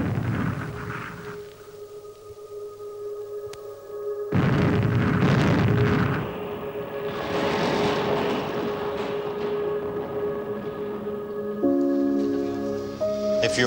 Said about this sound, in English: the first place the British Army bombarded was Liberty Hall